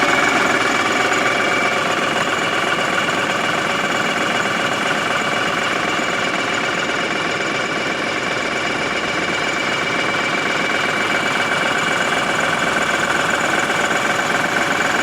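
A New Holland Boomer 40 diesel tractor engine runs steadily at idle, a loud continuous rumbling drone with a mechanical clatter throughout.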